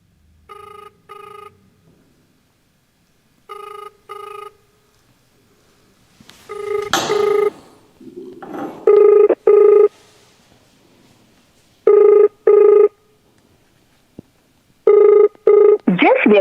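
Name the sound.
phone call ringing unanswered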